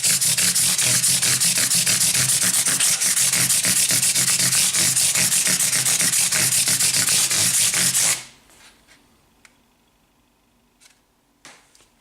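Fine-grit sandpaper rubs rapidly back and forth across the frets of an Epiphone SG G-400 guitar, a loud, close, steady rasp lasting about eight seconds before stopping abruptly, followed by faint scattered clicks.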